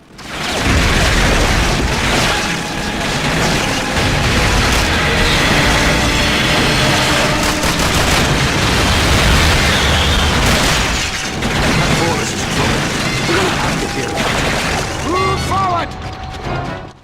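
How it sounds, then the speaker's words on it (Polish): Dense, relentless bursts of gunfire and explosions from the video game Call of Duty: Finest Hour fill the whole stretch, loud and chaotic, easing briefly near the end. "niezdrowo głośne odgłosy wystrzałów w tle"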